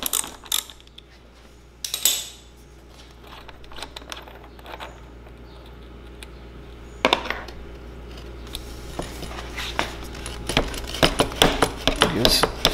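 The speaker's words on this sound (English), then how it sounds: "using a 10 millimeter, gonna remove this silencer hanger bolt" A 10 mm wrench works the silencer hanger bolt off a Kawasaki KX450 exhaust: scattered close metallic clicks and ratcheting taps with quiet gaps, growing denser and louder toward the end.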